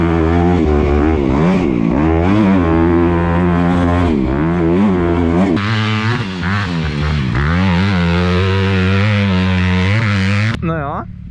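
A motocross motorcycle speeds along a dirt track, its engine loud and close, revving up and down in repeated rising and falling surges as the rider works the throttle.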